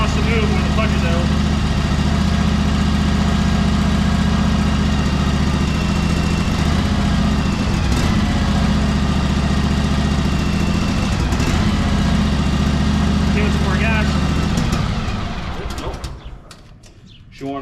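A used lawnmower engine with a hydrostatic drive, long left sitting, idles steadily while warming up: a loud, even low drone that holds throughout, then drops away near the end.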